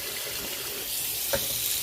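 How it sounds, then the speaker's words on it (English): Kitchen tap running into a sink while rice is rinsed, a soft steady hiss of flowing water with a faint splash near the end, no talking. "Now I'm just rinsing the starch off, so it'll start flowing freely."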